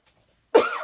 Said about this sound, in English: I always cough when I get on video.